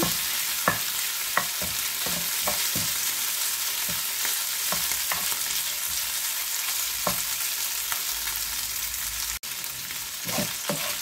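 Shrimp fry on low heat in a pan, a steady soft sizzle running throughout while a utensil stirs and scrapes in sharp intermittent taps, close up.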